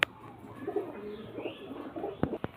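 Pigeons kept in a cage for sale cooing softly up close, a few low throaty coos with light rustling and a couple of sharp knocks near the end.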